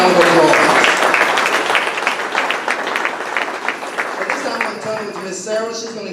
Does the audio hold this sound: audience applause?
yes